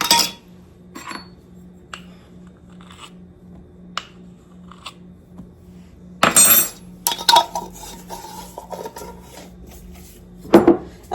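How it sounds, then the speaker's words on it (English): Dry baking ingredients, including baking powder, baking soda and salt, are stirred in a bowl: quiet scraping and clinking of a utensil against the bowl, with a louder burst of rapid mixing midway and another brief clatter near the end. "We are going to give this a really, really good mix."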